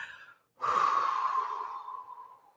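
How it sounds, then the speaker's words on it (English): A single long, forceful exhale during a deep breathing exercise, a close, loud rush of breath that starts abruptly after a brief pause and slowly tapers off, preceded by a softer inhale. "So what we're going to do first, we're going to blow out."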